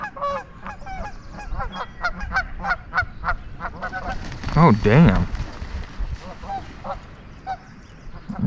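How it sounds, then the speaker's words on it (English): Geese honk loudly and repeatedly close by, with a burst of overlapping honks in the middle, while a person talks over them. "Geese are dicks"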